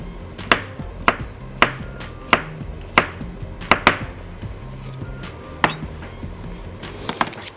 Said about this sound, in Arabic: هجهز المشروم، هنقطعه كده شوية